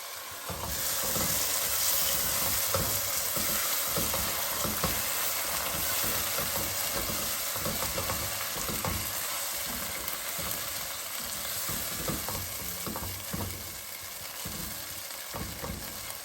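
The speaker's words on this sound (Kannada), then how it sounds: "ಇಷ್ಟು ಬೆಂದ ಮೇಲೆ ನೀವು ಟೊಮೆಟೊ ಹಾಕೋದು" Tomatoes frying in a pan give a steady, loud sizzle that runs the whole length with no pauses, while faint stirring knocks sound now and then.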